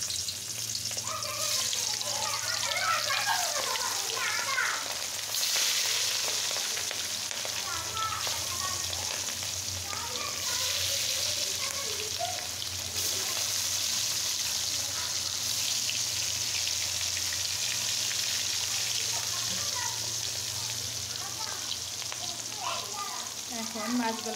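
Hilsa fish pieces frying in a pan of hot oil, a steady close sizzle with crackling bursts running throughout, with no talk over it.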